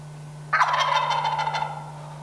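A wild turkey gobbles once from about 28 yards off to the hard right: a loud, sudden rattling call that trails off over roughly a second and a half above a steady low hum.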